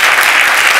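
Applause from an audience at a literary award gala, a short, loud, dense burst of many hands clapping together.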